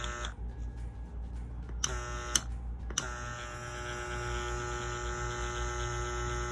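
Dragonhawk Mast tattoo machine running, a steady close electric buzz with a constant hum and a few brief clicks as it changes pace, alone.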